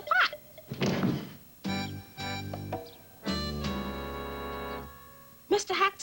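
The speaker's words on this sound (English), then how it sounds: "he had to kick the door open. Bang!" A door is kicked open with a bang: several hollow, heavy thunks sound close by, separated by longer sustained tones.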